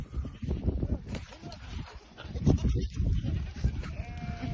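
Goats bleat among a herd of goats and sheep outdoors, with several calls over rumbling handling noise and movement, fairly close.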